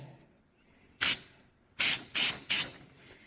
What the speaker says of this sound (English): when you spray the developer on